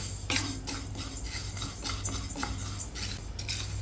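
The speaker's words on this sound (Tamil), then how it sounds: "1/2 கப் பாசிப்பருப்பு, அதை போட்டு நம்ம லேசாக வறுத்துக்கலாம்" Moong dal dry-roasting in a pan for pongal, a utensil scraping and stirring in steady repeated strokes, close and fairly quiet with a faint low background hum.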